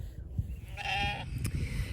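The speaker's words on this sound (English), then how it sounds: "So I'm still out here watching the sheep." Katahdin sheep bleats once, a clear wavering cry close to the microphone, over low outdoor background noise on a farm with newborn lambs nearby.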